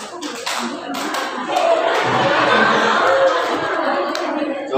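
A crowd at a Maulid Nabi religious gathering claps together in a dense, steady burst that swells and holds, fairly loud, with some chatter mixed in.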